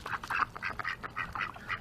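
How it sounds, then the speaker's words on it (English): Ducks quacking in a rapid, uneven series of nasal calls, about ten bursts in under two seconds, fairly close and clear with nothing else over them. "And now, ducks."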